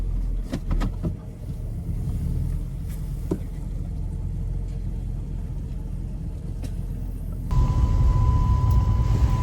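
Race car found at a swap meet, driven around a lap with its engine rumbling steadily up close; partway through the tone shifts, getting louder with a steady whine added.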